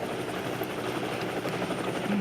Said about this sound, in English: Dan Ricks from the Cool One Chopper.